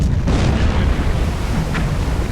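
A torpedo strikes a ship in the submarine game Silent Hunter 4, a loud, massive explosion that booms from the start and rolls on as a dense, sustained rumble for the whole stretch.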